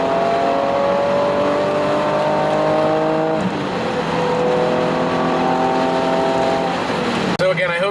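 Infiniti G37 with muffler delete and high-flow cats heard from inside the cabin, loudly revving up toward about 7,000 RPM with a rising, clean exhaust note, dropping briefly midway before climbing again.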